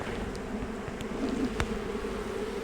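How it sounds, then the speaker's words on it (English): Dense, steady buzzing of many honey bees inside an open hive during a spring inspection, a continuous close drone with a few brief clicks from handling frames. "But there were so many bees"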